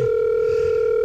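A steady telephone dial tone hums continuously and evenly at close range, alone with no voices, held unchanged for about a second.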